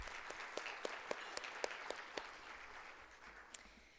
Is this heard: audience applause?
yes